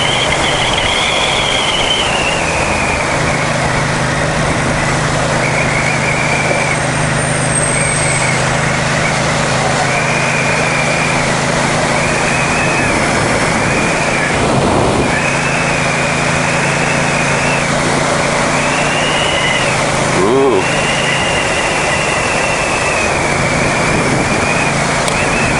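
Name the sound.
Ducati XDiavel Dark motorcycle engine while riding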